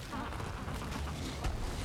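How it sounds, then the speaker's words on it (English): A swarm of bees in Guild Wars 2 makes a dense, continuous buzzing drone, fairly faint and steady throughout under the game's background sound. "Bees. Always the bees."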